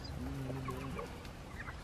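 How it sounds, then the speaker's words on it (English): Large backyard chickens clucking nearby, a few short rising calls over a steady low outdoor hum, with no talking. "we got a couple really big chickens."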